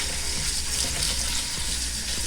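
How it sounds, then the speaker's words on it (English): Cold tap water runs steadily into the bowl of a salad spinner to rinse fresh parsley leaves, a continuous close hiss and splash with no pauses and no talking. "You're going to rinse with cold water."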